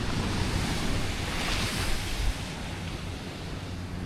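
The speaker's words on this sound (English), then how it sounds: "Finally got a little nice boardwalk we can walk by the beach." Ocean surf washes steadily onto a beach beside a boardwalk in Puerto Rico, a continuous broad roar of breaking waves with some wind buffeting the microphone and no talking.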